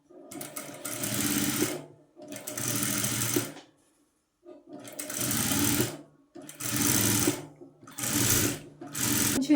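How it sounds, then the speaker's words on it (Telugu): Sewing machine stitching along fabric piping in close, loud bursts of a few seconds each, separated by short pauses, with no talking. "ఇందాక మనం వేసుకున్నటువంటి దాని మీదే స్టిచ్ వేసుకుంటూ రావాలి."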